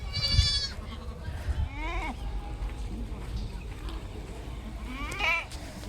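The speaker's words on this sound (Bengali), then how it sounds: "এইদিকে পিছন সাইডে চাচার ছাগলগুলো এইদিকে আছে" Goats bleating nearby behind a rural home, one clear bleat at the start, quieter calls around two seconds and another bleat near the end, over low background noise and faint voices.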